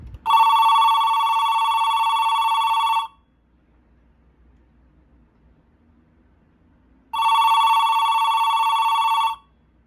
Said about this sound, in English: let's go ahead and ring the phone. Just a reminder, it is an electronic ringer.